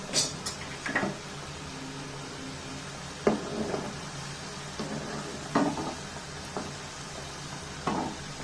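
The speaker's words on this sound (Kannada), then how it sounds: "ಇವಾಗ ನಾನು ಇದನ್ನು ಡೀಪ್ ಫ್ರೈ ಮಾಡ್ಕೋತೀನಿ." Samosas deep frying in oil give a steady low sizzle, punctuated every second or two by brief sharp crackles and clinks as pieces are moved in the pan, close and moderately quiet.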